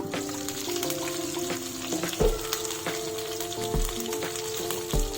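Chicken fries golden with curry leaves in a pan, giving a close, bubbly sizzle with a faint tonal hum underneath and occasional knocks of a utensil against the pan.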